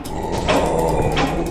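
Dog barks in the Android action RPG Anima, several short yelps repeating in a quick rhythm over a constant game backdrop of hum and ambience.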